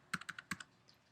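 Quick burst of computer keyboard typing, a handful of light, close key clicks in an uneven rhythm that fade out, quiet and with no voices.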